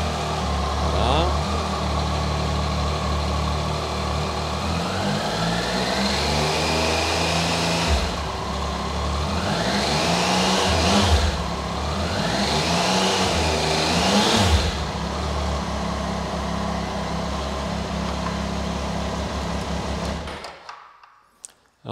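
A Triumph Tiger 800 XRx motorcycle engine runs close by and is revved several times, each rev sweeping up and falling back over a steady idle, before the sound cuts off abruptly at the end.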